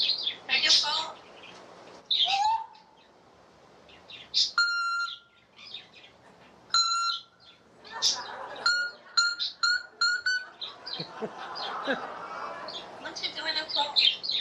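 A pet parrot at home chirps, whistles and mimics speech in a run of sharp, bright calls and electronic-style beeps, loud and close, separated by short pauses, with some human talk mixed in.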